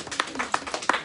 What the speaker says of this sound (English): Can we give Jesus a round of applause?